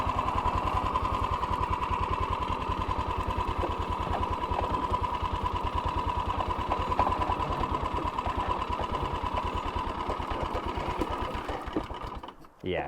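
Rokon Trail-Breaker 2WD motorcycle engine idling on a trail, a fast, even mechanical chugging that holds steady and close for about twelve seconds before cutting out.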